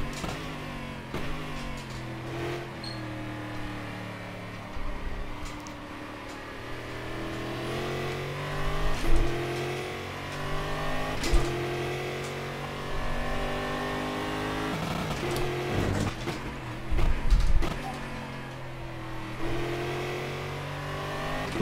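A V8 stock car engine in the racing video game GSCExtreme at the Taruma circuit, repeatedly revving and accelerating through the gears with rising and falling tones, plus occasional sharp bumps and tire noise, no talking.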